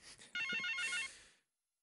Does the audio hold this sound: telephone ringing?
yes